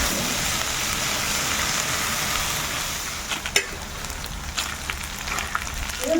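Boiled black chickpeas stirred into onions frying in oil, a dense continuous sizzle with occasional spoon scrapes and clinks close by, no voices.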